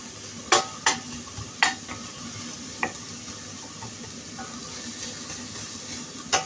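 Spoon scraping and knocking against a pot while the mawash dish is stirred, a few sharp clinks scattered over a low, steady background with a faint simmer.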